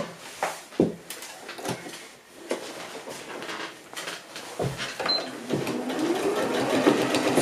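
A sewing machine stitches a zip onto a fabric pouch, with short bursts of needle clatter and clicks, then a steadier, louder run of sewing toward the end, close by.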